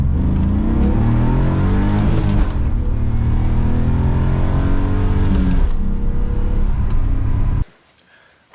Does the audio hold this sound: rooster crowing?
no